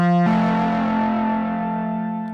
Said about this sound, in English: Let's get some reverb on there.